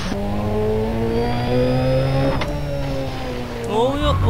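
A car in GTA San Andreas accelerates through its gears, the engine tone climbing steadily and dropping at a shift near the end before rising again, loud and continuous, with someone speaking over it.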